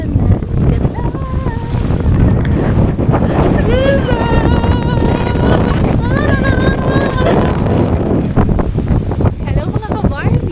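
Strong wind blusters at Pinukot Beach in Romblon, Philippines, a steady loud rush across the microphone mixed with surf, while voices talk and call out over it throughout.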